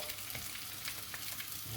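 Close, steady sizzling and crackling of 18 sausages browning in a crowded hot frying pan, a continuous spitting hiss with no voices.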